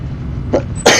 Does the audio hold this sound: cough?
yes